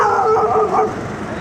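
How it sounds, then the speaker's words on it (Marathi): A nearby dog in Satara barks and yelps in quick, whining bursts, close and fairly loud, then trails off into quieter whimpering. "कुत्रं कोण भुकायले बाबा माझ्यावर"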